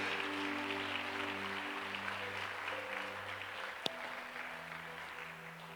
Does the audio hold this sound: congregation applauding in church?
yes